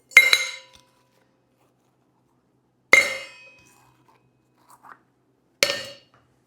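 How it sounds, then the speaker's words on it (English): Ice cubes dropping into a metal cocktail shaker tin while a margarita is made, heard as three separate bright, clinking impacts spaced a few seconds apart, each quick to fade, with a faint tiny rattle between the last two. "So put a couple ice cubes into the tin."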